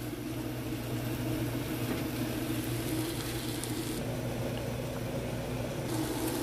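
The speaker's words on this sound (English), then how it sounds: "went ahead and put in the steak inside the air fryer" Steak cooking inside an air fryer gives a steady, even whir of fan and hiss with a low hum, continuous and fairly loud, with no talking.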